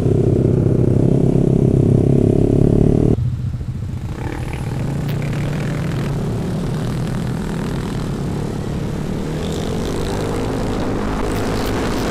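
A motorcycle with a 58 stroke-up engine drones loudly at first, then drops sharply in tone and climbs again into a rough, steady roar under load, close and continuous throughout.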